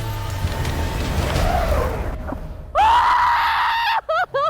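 Person screaming during a jump from a height at a Marine bootcamp course, a loud sustained close scream with wavering pitch breaking into short gasping bursts, following rough breathing and wind noise.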